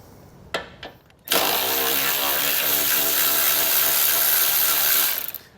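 A ratchet works loose the 13 mm nut holding the horn on a 2017 Chevrolet Sonic: a couple of soft clicks, then one sustained whirring spin of about four seconds, loud and close.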